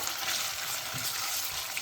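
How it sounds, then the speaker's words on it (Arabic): Tomato paste fries in a pot with a steady, loud sizzle and hiss, occasionally stirred, continuous and close with no talking. "نحمر شويه"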